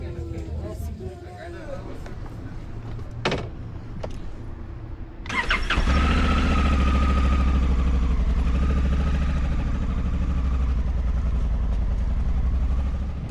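A cable car riding down a mountain valley gives a steady, loud mechanical hum and rumble from the cabin that starts abruptly and continues, preceded by a few clicks and knocks, with people speaking over it.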